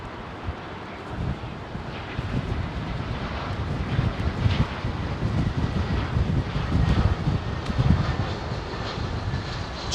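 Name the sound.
Singapore Airlines Boeing 747 freighter on approach and landing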